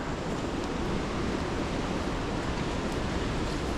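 Wind blowing through trees by an old railroad, a steady, dense rushing roar that stays loud and even throughout with no distinct gusts, and no voices.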